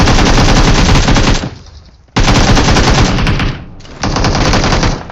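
Video-game automatic gunfire aimed at a bot, loud and close, in two long sustained bursts separated by a short lull, then a third burst, with no talking.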